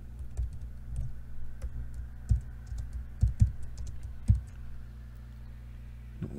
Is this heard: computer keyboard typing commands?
yes